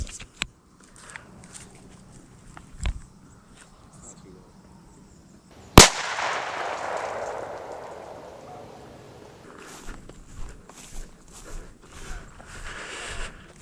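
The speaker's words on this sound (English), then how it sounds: "we're gonna be shooting at 30 yards, then I'm gonna move to 40" A shotgun fitted with a Muller close-range choke tube fires once at a target 30 yards away outdoors, one loud, near blast with a long fading tail, surrounded by quieter clicks, handling noises and low voices.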